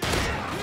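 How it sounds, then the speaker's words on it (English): Automatic gunfire in Call of Duty Modern Warfare 3, a brief, loud burst of rapid shots filling a short moment of gameplay. "Well, it's an automatic gun."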